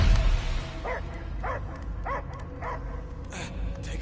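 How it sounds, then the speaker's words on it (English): A dog in the Guardians of the Galaxy video game barks in a slow, regular series of about five evenly spaced yips and barks, moderately loud over a low ambient rumble. "I hear only barking."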